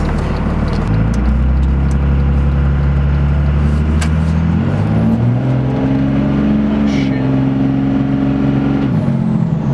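A second-generation Cummins diesel pickup truck engine, tuned to stage 6, revs hard and climbs in pitch under load, with a rising turbo whistle as it accelerates, loud and close.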